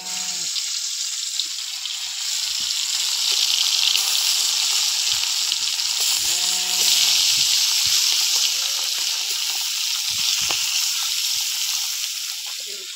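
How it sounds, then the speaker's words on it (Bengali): Parshe fish fry in hot oil in a wok, a loud, steady crackling sizzle that continues through the whole stretch, close up, with a few scattered clicks and bubbling pops on top. "মাছগুলো ভেজে নেবো"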